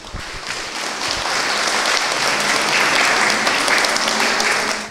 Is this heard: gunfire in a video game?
no